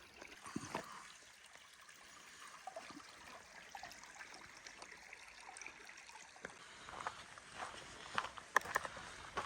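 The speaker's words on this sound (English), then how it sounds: "We just crossed the stream, and coming around the other side, you can see it coming in." A small stream flows through a desert oasis near Parker Dam, a soft continuous trickle and burble of water with faint footsteps and brushing sounds close by.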